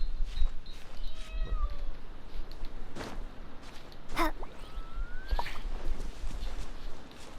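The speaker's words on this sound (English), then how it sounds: "Do you hear that? That's a little cat, isn't it?" A small cat meows in the game Genshin Impact, with several short, faint mewing calls spread across a noisy, close background of game ambience and soft rustles.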